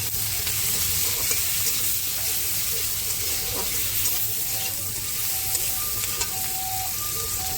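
Tomato and salt frying in a pan, a loud, continuous sizzle with light stirring throughout, steady and close.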